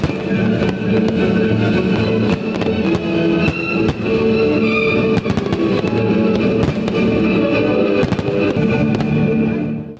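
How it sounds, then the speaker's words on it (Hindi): Bastille Day fireworks in France crackle and pop continuously in dense, loud bursts with many sharp bangs, while a music-like tonal layer runs underneath throughout. "रात के 12 बजते ही मुख्तलिफ शहरों में आतिशबाजी का भरपूर मुजाहिरा किया गया"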